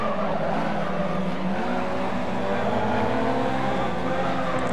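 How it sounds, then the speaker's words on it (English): A JDM tuner race car in a racing video game drifts sideways around a bend, its engine roaring steadily with tire squeal and skidding throughout, loud and continuous with no pauses. "TBK leaving a huge cloud of smoke behind him as he drifts right around the first blend."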